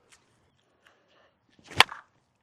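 A Miken JR9 one-piece USSSA slowpitch bat (2025) cracks a softball in one loud, sharp impact with a short ringing tail, preceded by faint light ticks.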